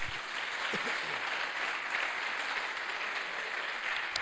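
Congregation applauding at a church service, a steady, even wash of many hands clapping throughout, moderately loud and fairly distant.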